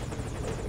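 A helicopter in the video game Metal Gear Solid V: Ground Zeroes makes a steady, dense rotor-and-engine roar that fills a brief moment with no pauses.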